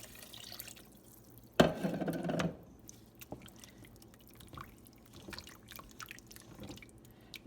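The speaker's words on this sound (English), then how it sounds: "now I'm going to add my stock" Stock is poured into a pot of mushroom soup in one short, splashy burst lasting under a second, followed by faint drips and small kitchen sounds.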